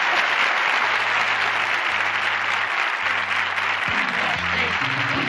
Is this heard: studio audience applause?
yes